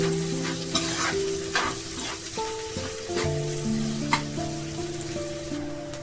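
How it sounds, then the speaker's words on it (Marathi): Chopped onion frying in a pan for a quick curry, a steady loud sizzle with repeated stirring scrapes of a spatula, close and continuous, no talking. "कांदा छान परतून घेऊया"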